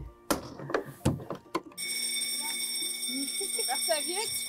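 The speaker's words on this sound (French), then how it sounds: "Système d'alarme, hein," An electronic alarm system rings with a steady, shrill continuous tone that starts abruptly after a few seconds of voices. People talk again faintly beneath the ringing near the end.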